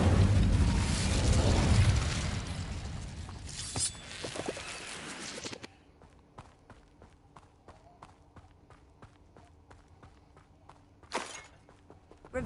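An Incendio fire spell cast in Hogwarts Legacy bursts out as a loud roaring whoosh for about five seconds, then drops to faint clicks and steps with one more short burst near the end.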